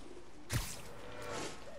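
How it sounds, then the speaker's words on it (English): Pigeons coo softly in Marvel's Spider-Man video game, a brief low call under a steady hum, with a short swish partway through. "there were four pigeons"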